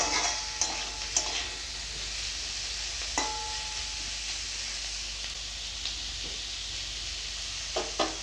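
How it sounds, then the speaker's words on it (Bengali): Carrots, long beans and capsicum sizzle steadily in a hot pan, with occasional sharp spatula knocks and scrapes as they are stirred, no voices present. "দেখো বন্ধুরা সবজিগুলো ভালো মতন ভাজা হয়ে গেছে"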